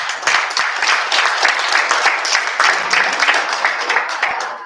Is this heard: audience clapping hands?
yes